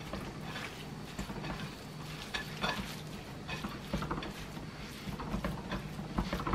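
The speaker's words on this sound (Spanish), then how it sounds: "un poco de sal en la carne para que agarre bien el sabor. Revolviendo que se integre bien." Salted beef being stirred, with a continuous close mix of scraping, clicking and soft sizzling marked by irregular sharp ticks throughout.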